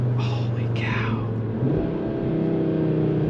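Audi RS3 in performance mode accelerating hard, a steady loud engine drone rising in pitch under faint cabin chatter.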